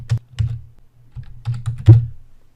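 Fingers typing Python code on a computer keyboard, a loose run of close, crisp key taps in irregular clusters with short pauses, no voices.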